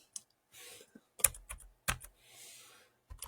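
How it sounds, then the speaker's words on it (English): Bursts of typing on a computer keyboard, with clusters of sharp key clicks separated by short pauses and soft hissing gaps, close and clear with no talk. "I'm just typing in"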